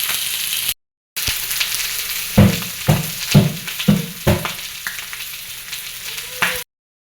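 Pork pieces fry in a pan before being simmered for a pork leg stew, a steady crackling sizzle punctuated by several loud stirring scrapes and bursts of spattering.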